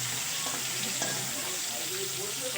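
Ground cumin and Kashmiri chili powder stirred as they fry in a pan of khesari greens, a dense continuous sizzle with soft scraping of the spoon, close and loud.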